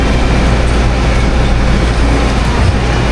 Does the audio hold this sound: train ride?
yes